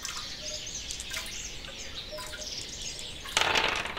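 Bird songs: several small birds chirping and twittering in short high calls, layered with a soft bed of ambient sounds and a brighter burst of noise near the end.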